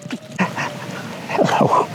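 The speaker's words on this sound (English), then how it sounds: "they left behind their little puppy friend here, who is the friendliest dog we've ever seen" A friendly little puppy left behind on a small island gives a few close, soft whimpering yips, with short rising and falling whines clustered near the end.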